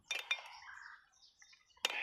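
Glass clinks and chinks as it is handled, two bright taps at the start and another at the end with a ringing decay between, close and fairly clear without talk.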